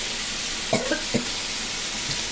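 Potato curry sautés in a pan with a steady, dense sizzle throughout, broken by a few soft scrapes of a spoon stirring against the pan.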